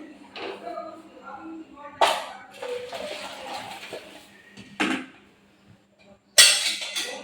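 Ghugni curry is poured from a metal wok into a bowl, giving sharp metallic clanks and scraping knocks in separate bursts, with a person talking in between.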